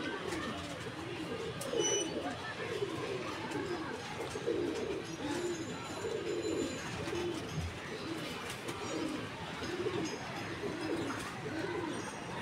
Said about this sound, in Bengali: আমরা এই মুহূর্তে রামপুরি কবুতর দেখাচ্ছি